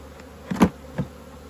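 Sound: honeybees buzzing at an open hive

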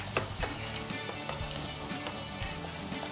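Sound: garlic tempering (tadka) sizzling in a pan for dal

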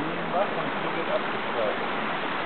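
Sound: Endert brook stream flowing

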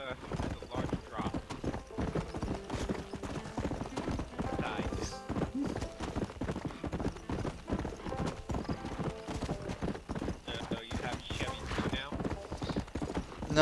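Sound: horse galloping in video game Red Dead Redemption

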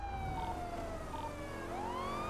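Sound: ambulance siren in a video game (GTA roleplay)

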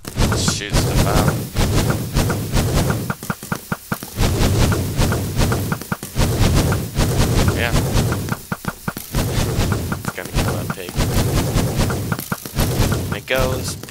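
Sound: machine gun firing in Minecraft, video game

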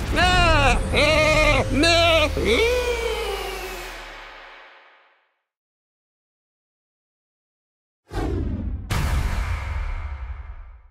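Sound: sheep bleating, Sheep Creep in video game Skylanders Trap Team

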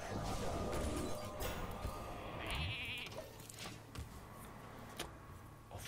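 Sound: sheep bleating in the video game Hearthstone

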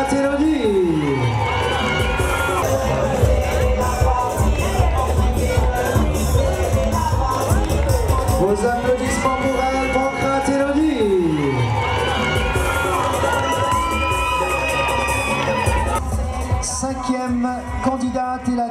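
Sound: crowd cheering and applauding for a Miss contestant

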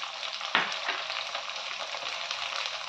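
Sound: carrots and vegetables frying in pan for veg pulao

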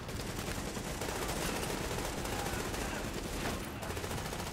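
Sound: AK rifle gunfire in the video game The Division

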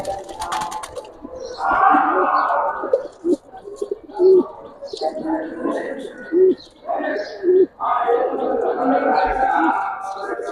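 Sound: pigeons cooing

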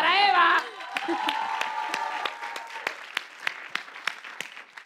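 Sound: audience applause for Eva

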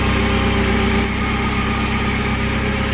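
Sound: Saab engine at unrequested high idle

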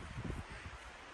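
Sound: wind and rain outdoors in Iceland

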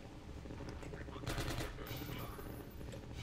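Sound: gunfire from the video game Half-Life 2: Episode One

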